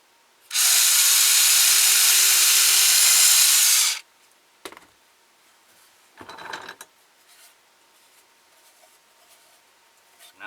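A power drill boring a hole in wood for a ventriloquist dummy, one loud close burst of about three and a half seconds, followed by a few short clicks and handling knocks.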